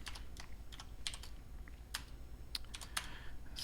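Typing on a computer keyboard during a Python and Pygame coding session: quiet, irregular clusters of crisp key clicks, some quick runs and single taps, close and soft with no talking.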